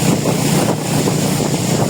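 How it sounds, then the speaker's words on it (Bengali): A motor boat runs on a river in Bandarban, giving a loud, continuous close engine roar mixed with wind buffeting the microphone, with no talking. "চাপা কমার উদ্দেশ্যে ছুটছে আমাদের নৌকা"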